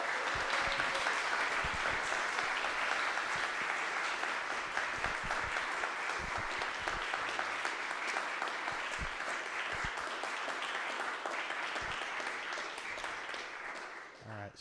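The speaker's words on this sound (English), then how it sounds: "Can we give these guys another round of applause?" Audience applause at an Eagle Scout Court of Honor ceremony, a steady, dense round of clapping filling the room for about fourteen seconds before tapering off at the end.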